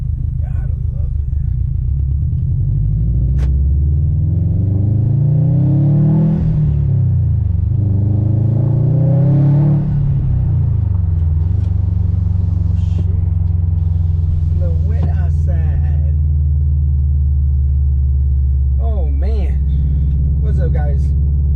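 A Subaru STI engine drones and rises through two clear revs while driving, a steady low rumble under the car's cabin sound, with brief higher whooshes later and someone talking at moments.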